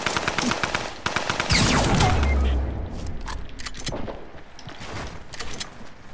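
Rapid automatic gunfire in the Fortnite video game, loud bursts rattling off in quick succession and then continuing in scattered volleys, with faint voices underneath.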